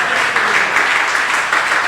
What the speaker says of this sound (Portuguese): De aplaudir Jesus forte.